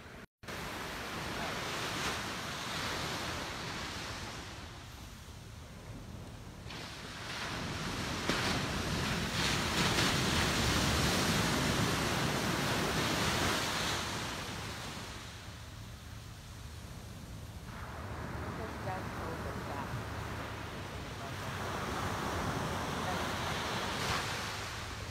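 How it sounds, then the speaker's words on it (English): Ocean waves surge and wash against the shore in broad, rolling swells, swelling and fading every several seconds with steady wind noise blowing across the microphone, fairly close and continuous. "I'm going to show you a picture of the ocean"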